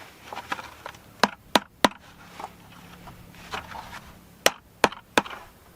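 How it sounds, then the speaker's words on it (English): Rubber hammer tapping a plastic rim into place around a garden wildlife pond, about six sharp thuds in two clusters of three, with softer knocks and shuffling between them. "All right, I found a rubber hammer."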